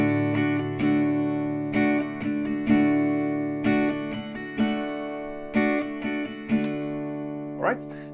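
Acoustic guitar strums a down-down-up-down-up pattern for a country song, with ringing open chords and rhythmic accented strokes, played alone.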